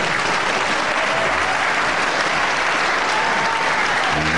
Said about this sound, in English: To that applause for a good sportsmanship from both men.